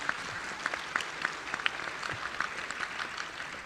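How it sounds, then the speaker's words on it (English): Thin, scattered clapping from a small audience at a civil service conference panel in Brunei Darussalam, with quiet individual claps spread across a few seconds and no one talking. "let us give a round of applause to our panelists here"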